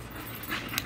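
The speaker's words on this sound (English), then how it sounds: "Ah, you stupid dog." A dog whimpers and pants close by in short, breathy bursts, with soft high whines near the end and no speech.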